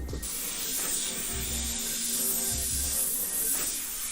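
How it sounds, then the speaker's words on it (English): An airbrush sprays paint for graffiti-style art in a steady, close hiss that runs throughout, broken by a few faint low thumps, with no talking. "Come on, Airbrush."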